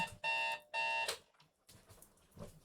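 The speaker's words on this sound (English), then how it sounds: "oh, there goes my alarm." An alarm clock goes off with two short, bright electronic beeping bursts in quick succession, fairly faint, followed by quiet room sounds.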